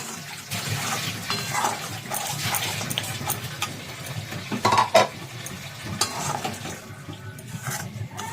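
Coriander chicken being sautéed in a pan, soft sizzling with intermittent stirring scrapes and clinks, fairly quiet and close, with no talk.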